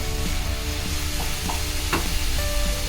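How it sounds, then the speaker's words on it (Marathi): Carrot halwa cooked with sugar being stirred in a pan, with soft scraping strokes of a spoon over a steady low sizzle, close and without talk. "त्याला 2 ते 3 मिनिटं आपण चांगलं मिक्स करून घेऊ।"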